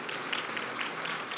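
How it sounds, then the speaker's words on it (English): Steady, even applause from an audience at a community award presentation for a leadership award winner, a continuous moderate wash of clapping throughout. "let's give a round of applause"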